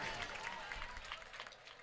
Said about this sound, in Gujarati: બતાવો તાળીના ગડગડાટથી